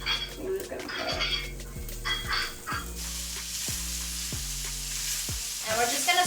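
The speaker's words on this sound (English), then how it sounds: "we're just gonna stir all the vegetables until they're nicely coated in your rendered pork fat" Vegetables sizzle in rendered pork fat while a utensil stirs and scrapes them around the pan in a repeated rhythm, close and steady with no voices.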